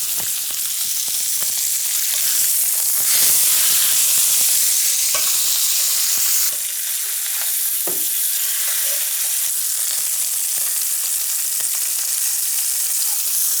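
Pork chops sizzle and fry steadily in a hot pan, a loud continuous crackle with a few sharp spatters and pops throughout, no talking.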